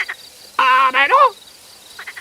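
A small blue frog gives one loud, close, rasping croak in two quick pulses, followed by a few faint chirps against quiet night ambience.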